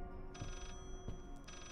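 An old telephone rings inside the haunted house of the video game Layers of Fear, two repeated electronic trills with a pause between, fairly clear over a low droning ambience, with faint thuds and no talking.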